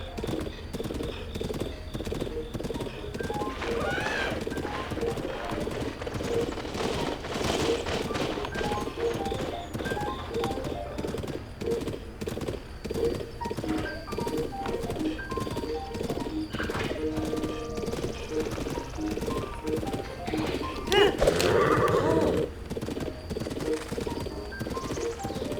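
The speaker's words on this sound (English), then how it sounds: "So Enormous here is not the most flexible of horses, but he can kind of crush wild boars underfoot" A large horse trots through the Akkala region in Breath of the Wild, its hooves clip-clopping in a steady rhythm under game music, with a short neigh near the end.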